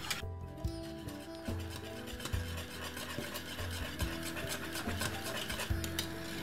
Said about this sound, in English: I'm using some fine cornmeal. Keep whisk like this. Until it just get thick.